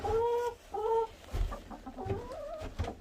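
Chickens in snow, among them a Polish hen, cluck and croon nearby in a run of short overlapping calls with some louder, drawn-out notes, and no talking.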